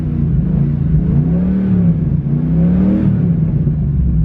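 A Ford Mustang Foxbody with an aftermarket exhaust revs up toward 4500 RPM and holds, a loud, close, steady engine drone that swells and dips slightly, with no talking.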